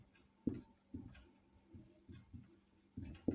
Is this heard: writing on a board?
yes